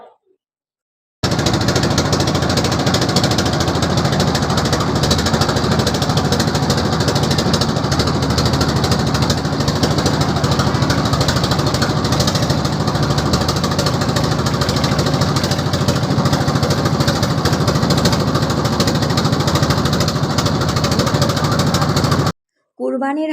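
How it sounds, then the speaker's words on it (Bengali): Boat engines of river trawlers carrying sacrificial cattle to riverside markets chug loudly and continuously, a steady mechanical drone that runs almost the full length with a voice mixed faintly underneath. "কুরবানির গরুর ট্রলার বারবার নদী দিয়া যাইতাছে বিভিন্ন হাটে"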